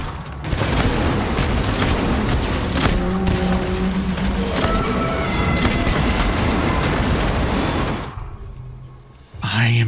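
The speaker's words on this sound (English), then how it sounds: "Grenade launcher it is." Grenade launcher blasts in Death Stranding rip through a dense, continuous barrage of booms and mechanical clatter for about eight seconds, then drop off sharply, with a final burst at the very end.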